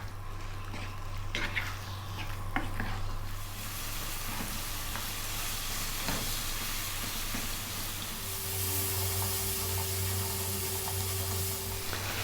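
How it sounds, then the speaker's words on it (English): A meat curry mixture sizzles in a pan on a Kerala-style stove, a steady moderate frying hiss with a few utensil taps early on and a low hum underneath, growing slightly louder later. "Let's grab the mixture, drop it in, and cook that for 6 or 7 minutes."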